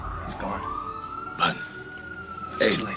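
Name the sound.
ambulance siren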